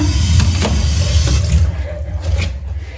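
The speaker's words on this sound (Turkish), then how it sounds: "Şimdi hemen suyumuzu koyalım çaydanlığımıza." Water is poured into a thermos to make coffee, a steady splashing stream that runs strongly at first, then thins into lighter trickling and gurgling near the end.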